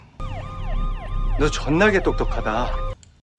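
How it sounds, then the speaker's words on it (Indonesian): A wailing electronic siren tone from a mobile phone sweeps up and down repeatedly, loud and near, with a brief burst of voices over it before it cuts off abruptly. "suara sirine itu ternyata bunyi dari ponselnya"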